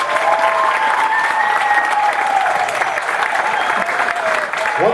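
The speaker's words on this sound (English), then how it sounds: "Let's give them a round of applause." An audience at a theatre event applauds, producing a full, sustained roar of clapping for about five seconds, loud and steady, with some cheering voices mixed in.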